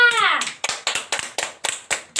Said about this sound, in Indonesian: Tepuk tangan untuk Raka.